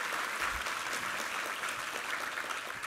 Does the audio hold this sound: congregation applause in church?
yes